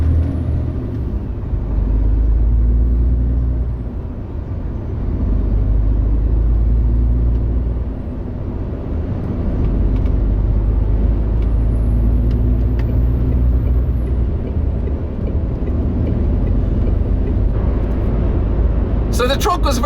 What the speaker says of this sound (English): I'll say nothing now for about 30 seconds and give you guys a sound of the engine.